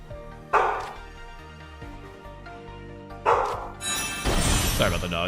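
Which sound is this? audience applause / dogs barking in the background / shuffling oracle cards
dogs barking in the background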